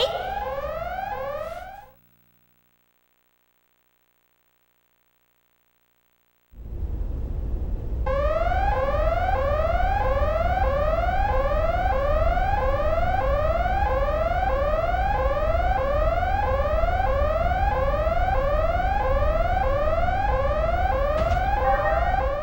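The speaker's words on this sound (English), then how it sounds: "So this alarm is incredibly annoying" A loud, continuous alarm from the video game Xenosaga Episode I repeats rising sweeping tones in a steady cycle. It cuts out for a few seconds of silence, then returns and keeps blaring to the end.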